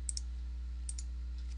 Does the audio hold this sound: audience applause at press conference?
no